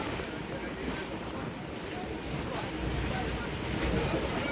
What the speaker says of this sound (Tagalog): Nandito po kami nakariyat malalaking alon.